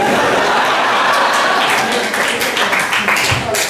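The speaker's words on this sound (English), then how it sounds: "A ripple of sort of self-hating applause there." A live show audience gives a ripple of applause mixed with a few chuckles, steady and fairly loud throughout, with scattered claps rising near the end.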